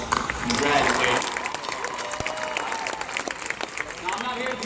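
Audience applause fills a University of Houston commencement ceremony, a dense crackle of clapping from a large crowd with a speaker's voice carrying over it.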